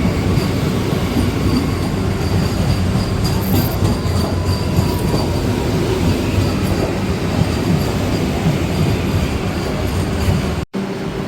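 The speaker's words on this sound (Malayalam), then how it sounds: "ഇതാണ് നമ്മുടെ വന്ദേ ഭാരത് ട്രെയിൻ." A Vande Bharat Express train passes close by at a station in India, a loud continuous roar of rolling wheels and rail noise that holds steady for several seconds before cutting off abruptly.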